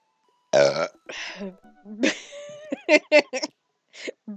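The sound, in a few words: burp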